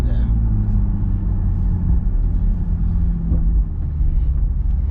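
A 2021 Toyota Supra fitted with a new exhaust rumbles loudly and close by with a deep, steady engine drone. Speech-like sounds are mixed in, but no distinct turbo whoosh or exhaust pops stand out.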